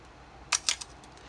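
Nikon F Photomic film camera firing its shutter at a slow speed: a crisp mechanical click, then a second clack a fraction of a second later with a small trailing tick, close and isolated against faint room hiss.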